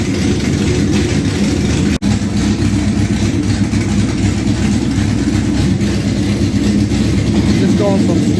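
A Trans Am V8 with a new cam and ported intake idles on dyno rollers as it warms up. It gives a loud, continuous low rumble with one momentary dropout early on.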